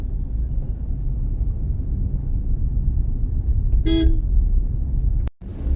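A congested road in a traffic jam gives off a dense, continuous rumble of engines, with one short car horn toot near the end before a brief cutoff.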